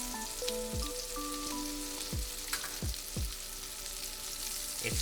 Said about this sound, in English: It's sizzling. Actually, it's frying.